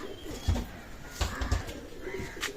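Imported Pakistani Teddy pigeons coo softly in a pigeon loft, with a few low, rounded coos scattered over a steady background hum.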